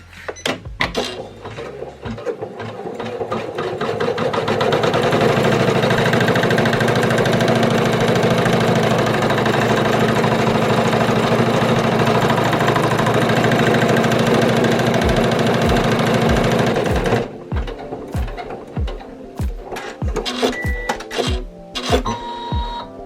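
A single-needle in-the-hoop embroidery machine stitches a felt key fob, starting with a few thumps, then a steady loud mechanical whir and rapid needle chatter that stops abruptly, followed by separate clicks and taps.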